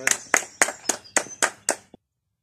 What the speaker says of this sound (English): Clapping for Boris